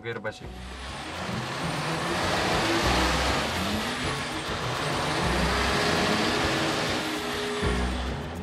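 On a Nepal road, heavy vehicle engines of a bus stuck in mud and blocked vehicles behind rumble and strain continuously nearby, with occasional revving and a low drone that rises and falls.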